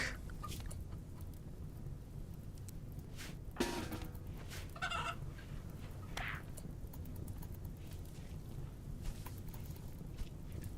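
Chicken clucking from a hen in the video game RimWorld, a few short, fairly faint clucks over a low steady background hum.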